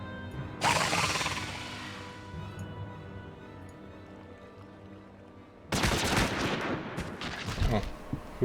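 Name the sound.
gunshots in the video game Final Fantasy XIV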